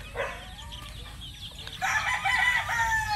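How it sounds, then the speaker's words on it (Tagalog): Young local-born crossbred pullets and a seven-month-old rooster in a dim coop cluck and crow, bursts of calls rising and swelling louder toward the end, with no one talking. "Ito yung mga pullets nila."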